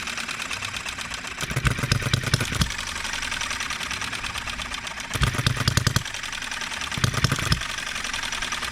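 A small Enjomor 6cc hit-and-miss model engine mounted on a cart runs with an irregular rhythm, quick bursts of rapid firing separated by quieter coasting stretches, close and fairly loud.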